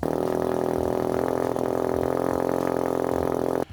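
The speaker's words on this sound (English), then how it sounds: "the RS, whenever you do a cold start, it always seems to feel like it's misfiring." A Ford Focus RS engine idles just after a cold start, with a steady, uneven-sounding hum that runs close and loud for several seconds before cutting off abruptly near the end.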